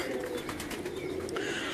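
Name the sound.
pigeons cooing on a Lahore rooftop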